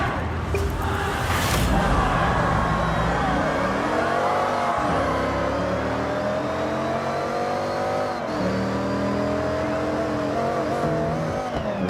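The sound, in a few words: race car engine from the video game Forza Horizon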